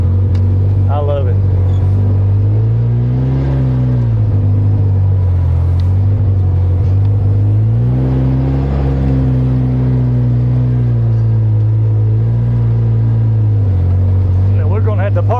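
A bus engine rumbles steadily while driving over rough rocky ground, deep and loud with rising and falling revs, and people talking over it in places.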